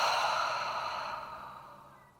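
A single deep, audible exhale through the nose closes a yoga practice. The breath is close and airy, fading gradually over about two seconds.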